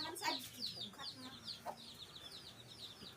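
Farm chickens cluck in a repeated run of short, quiet calls close by, with a faint voice in the background.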